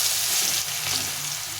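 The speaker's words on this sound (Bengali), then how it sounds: "এখন আমি আলুগুলো একটু ভেজে নেব।" Potatoes fry in hot oil in a wok with a dry chilli, cumin and bay leaf tempering, making a dense, close, continuous sizzle that holds steady for a moment.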